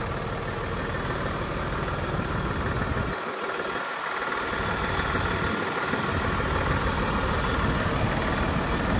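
A Hino RM bus with a 280-horsepower, six-cylinder, roughly 7,684 cc engine idles with its engine compartment open, giving a loud, steady, even rumble that holds constant throughout.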